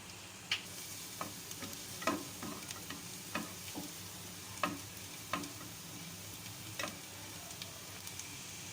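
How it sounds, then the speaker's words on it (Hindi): Finely chopped large garlic cloves frying in hot oil for restaurant-style chicken Manchurian: a steady, faint sizzle runs throughout, punctuated every second or so by light ticking spoon knocks against the pan, no voices. "ये मैंने फाइन चॉप कर लिए थे और ये मैंने इसमें डाल दिए फ्राई करने के लिए"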